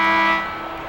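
End-of-half buzzer from the ESPN NBA Basketball 2K4 video game, a single loud, harsh electronic tone lasting under a second that sounds strongly, then drops a little in level before cutting off.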